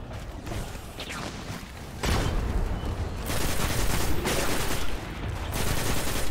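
Gunfire crackles in the Destiny video game on PS4, dense bursts of shots and mechanical clatter that keep up throughout, loud and continuous.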